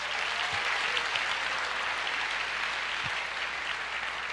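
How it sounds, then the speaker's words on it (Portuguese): A church congregation applauds in a dense, steady wash of clapping that continues evenly from start to finish at a moderate distance. "Você pode aplaudir o Senhor"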